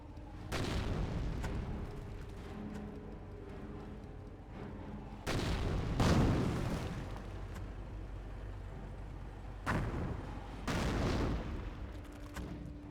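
Mortar and artillery fire in the Company of Heroes 1 strategy game, a Wehrmacht double-mortar setup: several heavy booming impacts land in bursts over a continuous battlefield rumble, with loud blasts around the middle and near the end.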